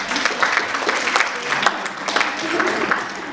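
A round of applause from a small audience at a realty team meeting, with brisk, steady clapping throughout the short stretch and a few voices mixed in underneath.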